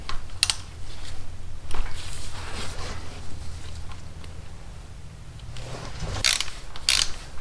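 A ratchet wrench loosens a cam chain tensioner bolt on a 2006 Ultra Classic motorcycle, with rapid clicking bursts near the end over a steady low hum and faint workshop noise.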